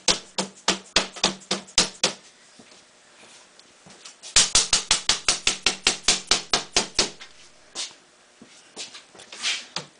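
Rapid series of sharp taps tapping down the edge of a solar panel under construction, around two dozen in two bursts with a short pause, crisp and close, then a few scattered softer knocks.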